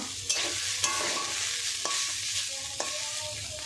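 Food sizzles and crackles in a hot pan while a utensil scrapes and stirs through it, with a few sharp clinks against the pan.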